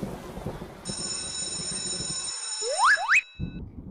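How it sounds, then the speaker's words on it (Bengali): Rain falls steadily in the background while a bright electronic ringing tone with two rising sweeps cuts through near the end, standing in for thunder. "বৃষ্টি তো সকাল থেকে পড়ছে"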